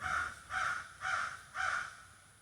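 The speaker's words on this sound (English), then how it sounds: "Yes, I still got the crows." Four evenly spaced, harsh caws from crows, each about half a second long, moderately near and clear against a quiet background.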